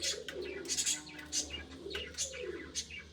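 Pigeons coo softly in a small home loft where a hen has just laid an egg, low repeated coos running steadily under brief higher chirps and rustling, close by with no talk.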